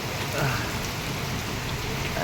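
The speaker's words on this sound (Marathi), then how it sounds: "इकडे धुवाधार पाऊस पडतोय" Steady, dense rain pours down, a constant close hiss of drops hitting surfaces with no pauses.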